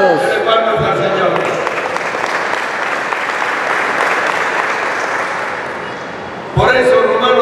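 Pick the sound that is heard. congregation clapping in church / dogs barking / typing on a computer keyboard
congregation clapping in church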